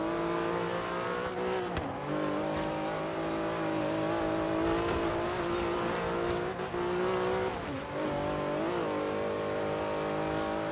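A Porsche GT2 RS sports car drives in the video game Forza Horizon 3, its engine droning steadily loud with repeated revs and gear-shift dips throughout.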